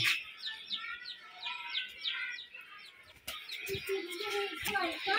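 Giribaz pigeons in a loft in Rajshahi make a steady chorus of warbling calls and chirps, close and fairly loud, with a few sharp clicks and some rustling among the birds.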